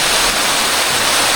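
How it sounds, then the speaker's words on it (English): A waterfall along a Bolivian mountain road roars as a loud, steady broadband rush with no pauses or voices. "Look at the waterfall over there."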